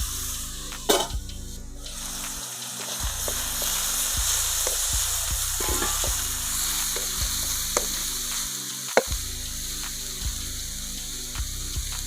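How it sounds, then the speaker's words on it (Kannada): Onions sizzle and fry in a hot pan for egg bhurji, a steady close crackle with a few sharp clinks of a spatula against the pan, no voices. "ಈರುಳ್ಳಿ ಹಾಕ್ತಾಯಿದ್ದೀನಿ. ಸ್ವಲ್ಪ ಈರುಳ್ಳಿ ಫ್ರೈ ಆಗಬೇಕು."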